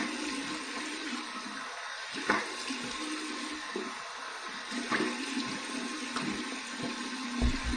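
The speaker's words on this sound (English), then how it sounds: "here's my cold water rinse" Cold water runs and splashes at a sink as a rinse after a shave with a razor, a continuous close hiss of flowing water broken by a few sharper splashes.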